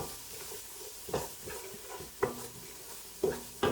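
Onions sauté in a pot over medium heat, a soft steady sizzle broken every second or so by the scrape and clack of a spoon stirring, quiet and close.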